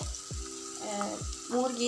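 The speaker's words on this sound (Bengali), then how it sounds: "আমি এখানে দেখেন পেঁয়াজটা আধা ভাজা করলাম" Sliced onions half-fried in a pan give a steady sizzle that runs under a voice speaking throughout.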